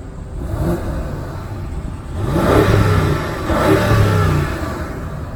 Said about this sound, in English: Some good V8 sound.